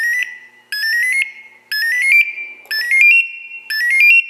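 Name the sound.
Grace Industries SuperPass 2 personal alarm sounding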